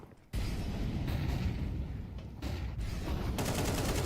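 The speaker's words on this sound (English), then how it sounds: "Flashes forward, AK of Sven engaging, Fiku goes down" AK rifle fire in a competitive Counter-Strike match, loud dense volleys of close gunshots that run nearly without pause, with a few brief dips between bursts.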